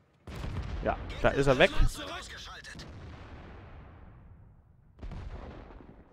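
Tank cannon fire booms in World of Tanks, with one heavy shot near the start and another a few seconds later, each trailing off in a rumbling echo while someone talks over the first.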